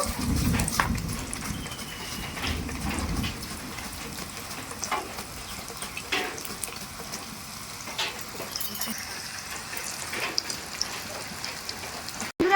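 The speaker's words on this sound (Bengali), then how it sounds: "একইভাবে আমি এই চিপসগুলো ভেজে নেব" Steady crackling sizzle of raw banana chips deep frying in oil, continuous and moderately loud, with occasional clatter and stirring taps.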